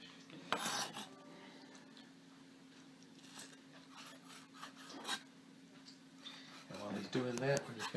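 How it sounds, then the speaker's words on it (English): Knife scraping and rasping through cuttlefish flesh on a cutting board, close and quiet with short scratchy strokes and a clatter of kitchen utensils near the end, under a low hum. "He's cutting the cuttlefish."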